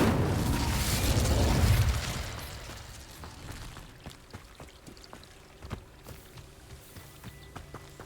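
A whooshing, crackling burst of the Incendio fire spell in Hogwarts Legacy, loud at first and then dying down into faint scattered ticks and crackles of lingering flames.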